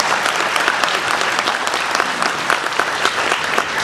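A room full of spectators at a county mayoral debate claps steadily and loudly, a dense unbroken wash of many hands with no voices standing out.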